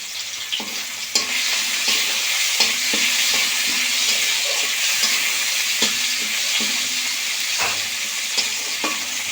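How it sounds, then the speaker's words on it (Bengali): Tomatoes frying in oil in a pan on the stove, giving a steady loud sizzle with occasional spoon stirring clicks throughout, no talking. "টমেটো একটু ভালো করে ভেজে নরম করে নেব।"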